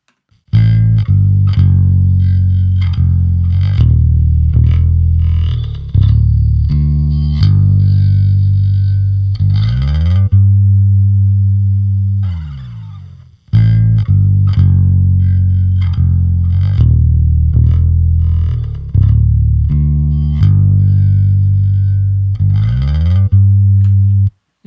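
Distorted bass guitar riff repeating loud and steady with a gospel mix, tone shaped by EQ to bring out low end around 100 and string brightness, two phrases split by a brief drop near the middle, no voices.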